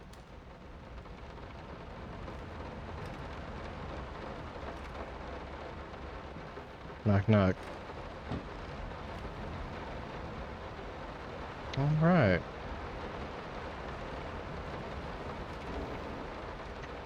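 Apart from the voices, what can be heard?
rain in the video game Layers of Fear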